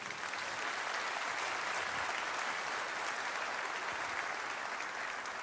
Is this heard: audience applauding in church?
yes